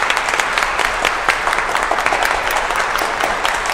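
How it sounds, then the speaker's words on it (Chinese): Sustained applause from an audience honoring the champions at an award ceremony, dense steady clapping filling the whole stretch at even loudness. "再次把掌声献给我们所有的冠军们。"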